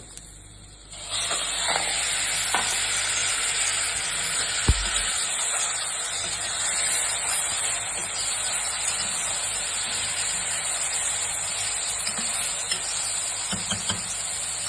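Chicken sizzling in a pan with browned onion, chopped garlic, ginger and green chili, a steady loud hiss starting after a second of quiet, with a brief low thump midway and occasional clinks near the end.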